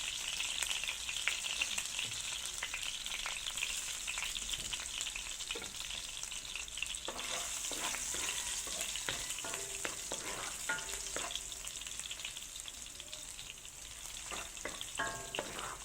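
Garlic frying in hot oil for an adobong pusit sa gata dish, a continuous loud crackling sizzle with scattered pops and occasional utensil clicks throughout.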